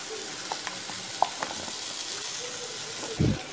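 Spices sautéing and sizzling in a frying pan while cooking egg noodles, a steady soft fry with a few scattered pops and clinks and a brief heavier stir near the end.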